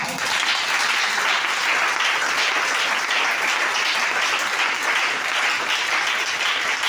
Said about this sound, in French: Est-ce que tu peux acclamer pour la gloire de Dieu?